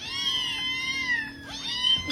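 Cats yowling in a long, wavering caterwaul with a bending pitch, loud and close, a brief dip near the end before a final rising cry; no talk.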